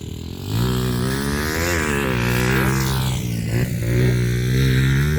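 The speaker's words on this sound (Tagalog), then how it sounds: "Malaki yung motor mo, no?" A large motorcycle engine revs up and holds high, its pitch sweeping and wavering as the throttle works, loud and close throughout with no talk over it.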